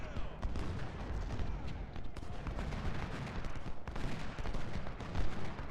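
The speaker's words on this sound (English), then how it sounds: "There's an enemy artillery battery." Ultimate General: Civil War battle din with an enemy artillery battery firing, dense rumbling volleys and crackling shots layered continuously, moderately loud throughout.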